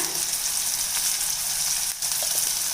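Tomatoes with chilli powder and sambar powder sautéing in a pan, a steady close sizzle with soft scraping stirs and a brief dip near the end.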